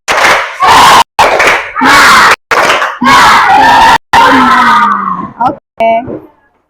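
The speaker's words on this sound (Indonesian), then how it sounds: "Kita tepuk semangat lah, oke? Tepuk semangat." A class of students doing the tepuk semangat clapping chant: loud shouted bursts with hand claps, separated by short pauses, ending with a few scattered voices that fade out.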